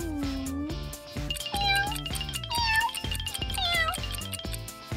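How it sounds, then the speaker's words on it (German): A cat meows several times up close, its calls rising and wavering in pitch and sometimes stretching into drawn-out cries. Faint tinkling sounds accompany the meows. "Die Katze hat Veränderungen bemerkt."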